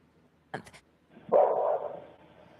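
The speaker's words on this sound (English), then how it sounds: "you can hear a dog barking" A dog barks once or twice at a distance, a short sharp yip followed by a longer, muffled bark, in otherwise quiet surroundings.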